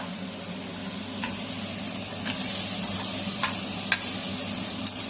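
Onions fry in a pan in a home kitchen, a steady sizzle and hiss with a few sharp stirring clicks, growing slightly louder midway, close and with no talk.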